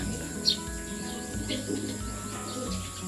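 Pigeons in a loft make soft low cooing calls amid faint chirps and a steady background hum, with one brief sharper call near the start.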